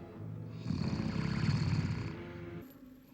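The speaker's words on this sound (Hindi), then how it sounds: "ऐसे खर्राटे भर रहे हो जैसे सचमुच बड़ी मुद्दत से सोए हुए हो" A man asleep under a sheet gives one long, deep, rattling snore that swells and fades over a couple of seconds, close and alone without talk.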